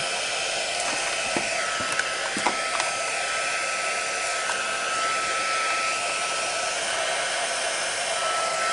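A heat gun blows steadily on embossing powder while decorating a candle, a constant whooshing hiss at moderate level that runs through the clip with a few faint clicks and taps near the start.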